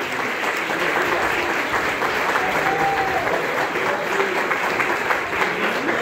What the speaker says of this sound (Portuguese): Vamos aplaudir o Senhor Jesus com calma